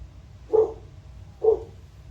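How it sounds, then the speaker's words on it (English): Two single dog barks, spaced about a second apart, sounding distant and muffled over a low steady background hum. "And our lovely dog in the distance."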